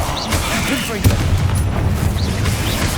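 Confringo blasting spell firing off in Hogwarts Legacy, a dense, continuous rumble of booming blasts and crackling impacts that fills the whole stretch at steady loudness, with a sharper burst about a third of the way in.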